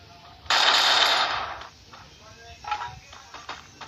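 A burst of gunfire from the mobile shooter game Free Fire cracks out loudly and briefly, followed by softer in-game clatter and faint voices talking.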